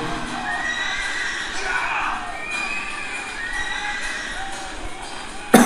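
A horse neighs in a battle scene from the TV drama Ertugrul Ghazi, with loud shrill whinnies over a noisy background of shouting crowd and hoofbeats.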